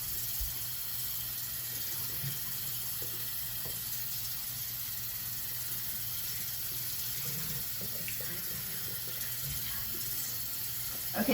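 Tap water runs steadily into a bathroom sink while hair is wetted, a constant hiss with faint splashes heard up close.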